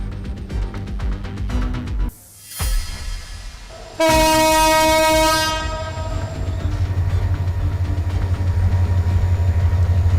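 A train passes during Eid holiday rail travel in Bangladesh, its loud horn blaring in long sustained blasts over heavy rumbling wheels and rolling carriages, close and loud, with no talk.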